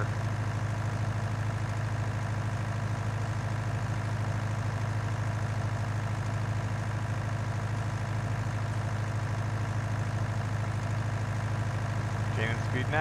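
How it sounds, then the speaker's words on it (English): Tractor engine in Farming Simulator 19 during mowing, a steady low idling drone held evenly throughout, with no other clear sounds above it. "Let's put some hours in this beauty of a tractor."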